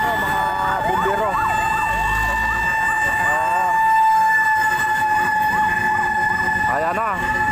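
A fire truck's wailing siren rises and falls repeatedly over steady background noise and a constant tone, with a second warbling burst near the end, as firefighters arrive at a fire with thickening black smoke.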